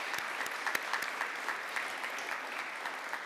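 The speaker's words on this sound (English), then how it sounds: "Everyone, please join me in another round of applause." Audience applause at a university alumni achievement awards ceremony: a dense, even wash of clapping from a large crowd, steady throughout with a few sharper individual claps standing out.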